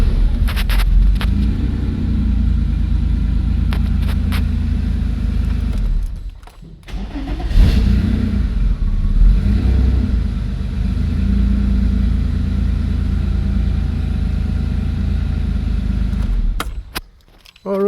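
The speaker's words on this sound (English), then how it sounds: "Give it a rev." A Porsche 964 flat-six, fitted with an aftermarket performance chip, starts and settles into a loud, steady idle, with a brief dip and a quick rev partway through before it runs on evenly.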